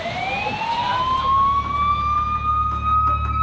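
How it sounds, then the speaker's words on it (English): An ambulance siren wails loud and steady, its rising tone sweeping upward over a low engine rumble as it approaches during a rescue at a lifeguarded beach. "The ambulance is coming"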